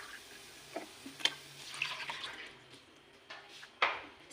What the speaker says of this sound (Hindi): 1 गिलास हम यहाँ पे पानी ऐड करेंगे।